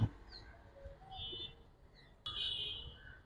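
Bird calls at a pigeon market where silver pigeons are sold, with faint chirps and soft coos scattered over low crowd murmur and a louder burst of chirping near the end.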